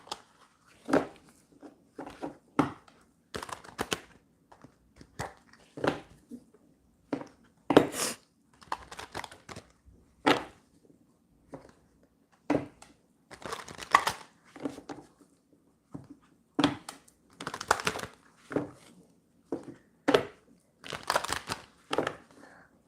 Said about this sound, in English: A lot of shuffling.